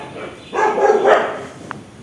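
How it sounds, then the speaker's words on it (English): Several dogs barking in a burst of overlapping barks at moderate distance, loudest through the middle of the moment, followed by a single short yip near the end. "My dogs are barking right now."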